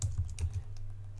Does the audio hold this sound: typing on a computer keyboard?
yes